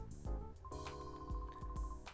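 A mobile phone ringtone sounds close by, a looping electronic melody of sustained tones with a few sharp note attacks, fairly loud and with no voices over it.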